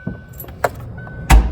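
Trunk release on a 1988 Ford Mustang GT 5-speed fox body popping open, a few small clicks and rattles followed by a sharp, loud thunk near the end, close up in a quiet interior.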